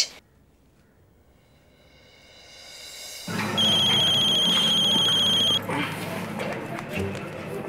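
A telephone ringtone for an incoming call starts faintly, swells and then rings loudly and steadily with a bright repeating electronic melody, close by, for several seconds before easing off.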